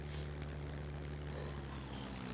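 A propeller airplane engine runs in the video game SCUM while the plane turns, a loud, steady droning buzz with a deep throbbing hum and no pauses.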